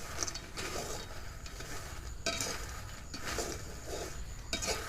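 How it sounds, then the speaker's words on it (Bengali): Peanuts dry-fried at home in a pan, stirred nonstop: a steady close rattling scrape with occasional sharper clinks from the pan, continuous and moderately loud, no voices. "এইভাবে অনবরত নেড়ে চেড়ে বাদামগুলোকে ভেজে দিতে হবে।"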